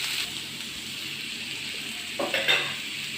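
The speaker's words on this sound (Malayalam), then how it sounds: "ക്യാപ്സിക്കം ഒന്നും കൂടെ വറക്കുക" Capsicum frying in a pan for a raw plantain cutlet makes a steady moderate sizzle nearby, broken near the end by a couple of brief scraping stirs of a utensil against the pan.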